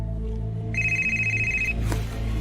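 A phone rings once with a steady high electronic tone lasting about a second, heard over a low background hum and drone.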